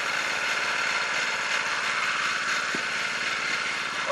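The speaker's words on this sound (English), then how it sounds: "I got the splitter just idling." Log splitter engine idling outdoors, a steady, even droning hum held at constant loudness throughout, close and uninterrupted, with no talk.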